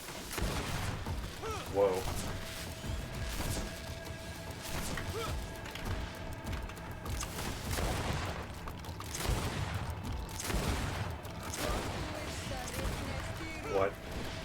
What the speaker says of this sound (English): I'm gonna use my gun liberally on this guy.